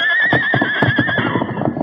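A horse whinnies loudly in an old-time radio drama from 1935, a long rising and falling neigh over rapid clip-clopping hooves, close and alone with no talk.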